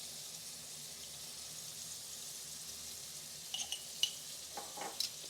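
Carrots with ginger sizzle softly in a pan as honey goes in for a glaze, a low steady hiss with a few faint stirring clicks toward the end.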